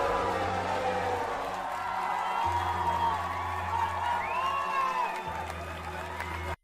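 Crowd at the British Grand Prix at Silverstone applauding and cheering steadily, a broad wash of clapping and voices with car engine drone underneath throughout.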